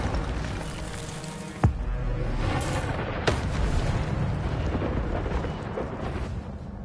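Incendio fire spell cast in the Hogwarts Legacy video game: a sharp burst with a crackling whoosh, followed by a second quieter hit over a continuous loud roaring game background.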